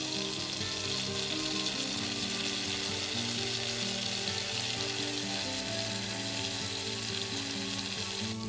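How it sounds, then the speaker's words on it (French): Lightly salted butter, about 60 g, sizzles and crackles steadily in a pan while browning into beurre noisette, a dense continuous frying hiss at close range with no voices. "Vous voyez, faire un beurre noisette, c'est très facile."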